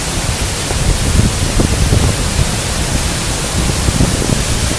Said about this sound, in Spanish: pues con todo lo que está lloviendo y ya está nevando, pues baja mucho agua por aquí.